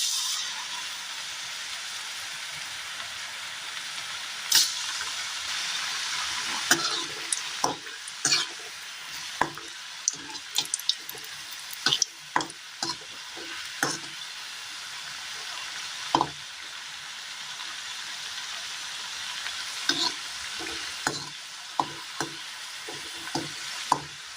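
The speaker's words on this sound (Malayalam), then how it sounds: "ഇനി ഇത് ഓരോന്നായിട്ട് ഇങ്ങനെ എടുത്ത് ചൂടായ എണ്ണയിലേക്ക് ഇങ്ങനെ ഇട്ട് കൊടുക്കാം" Snack pieces drop one by one into hot oil, setting off a continuous bubbling fry that is punctuated by frequent sharp clicks and taps of a spoon or slotted ladle against the pan.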